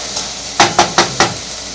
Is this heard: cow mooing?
no